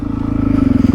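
Loud, close engine of a Suzuki DRZ400E dirt motorcycle riding a bridle track, a steady rapid thumping pulse that rises slightly in pitch through the short stretch.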